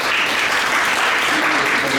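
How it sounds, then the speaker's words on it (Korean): A hall full of people claps steadily and densely at a university capstone presentation, loud applause holding the whole time without a break. "더 세게 박수 쳐야 되는 거 아니야?"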